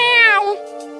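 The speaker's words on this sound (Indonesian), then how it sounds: "Wah, kucing." A toy cat gives one loud, close electronic meow that rises and then falls away, with a short tonal tail at the end and no voices over it.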